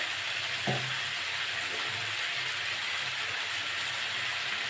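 Potatoes sizzle in hot oil in a pan with turmeric, making a steady, soft frying hiss. A brief knock sounds near the start, and no one speaks.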